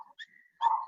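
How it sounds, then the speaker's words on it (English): Dogs barking indoors in the background: a short, faint yip, then a louder whining bark, tonal and somewhat distant. "sorry about the dogs"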